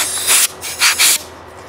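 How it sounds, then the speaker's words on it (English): Compressed air blasts through an RV fridge burner tube in three short, loud, close hissing bursts separated by brief pauses. "Compressed air, I have a compressed air compressor, or you can buy a can of compressed air"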